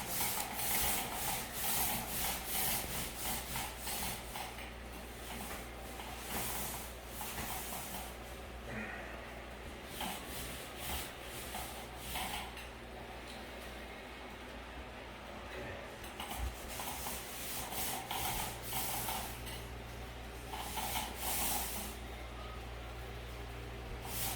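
A brush or roller works primer over a folding closet door in a steady run of soft, repeated rubbing strokes against a low background hum, with no talking.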